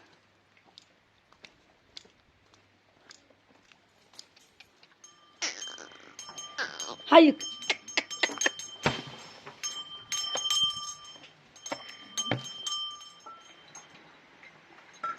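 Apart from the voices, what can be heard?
sheep in the pen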